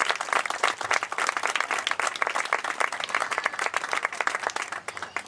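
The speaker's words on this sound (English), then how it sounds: "let's give Brett a huge round of applause" An audience at the outdoor unveiling of the Lindsey Family Play Space at Edgewater in Cleveland Metroparks applauds a guest named Brett, giving steady, full clapping for about five seconds with no talk.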